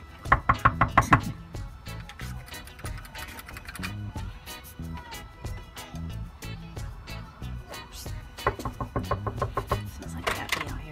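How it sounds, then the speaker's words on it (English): Knocking on a house door: clusters of sharp, close raps open and close the stretch, with softer room noise and faint movement in between. "Did you knock on the door?"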